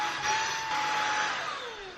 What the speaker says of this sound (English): I'm gonna have to get my hoover.